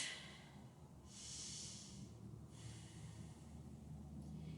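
Steady breathing from a person holding a yoga pose, with a stretch of louder, hissy exhalation in the middle over a low background hum, no talk.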